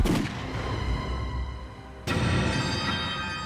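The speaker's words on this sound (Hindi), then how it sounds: "ये आवाज पटाखे की नहीं है, गोली चलने की आवाज है" Single sharp gunshot cracks out at a dramatic moment, a sudden loud report that cuts through a dim, rumbling background and leaves a lingering ringing decay.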